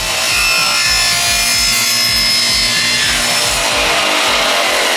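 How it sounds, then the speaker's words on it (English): Mahogany boards being sanded give a loud, continuous abrasive rasping, a steady rhythmic grind close up that runs without pause and with no talk. "We just need to get a good sanding on them"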